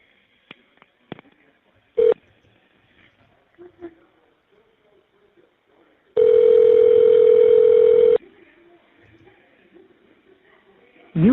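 An Evercom prison phone system placing an inmate call, with a few faint clicks and short tones, then a loud steady dial tone lasting about two seconds and another tone starting at the end, the line otherwise near silent.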